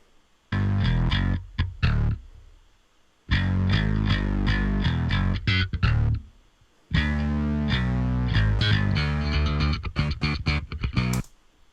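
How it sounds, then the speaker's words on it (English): A thick, buzzy synth bass plays sustained lines in three long phrases, with brief gaps between them. "Then bringing in the synth bass."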